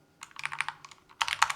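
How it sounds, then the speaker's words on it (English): Worn, old computer keyboard with loose keycaps clattering through two quick bursts of clicks as it is handled and fixed, close and crisp, separated by a short pause. "Let me actually fix my keyboard because my"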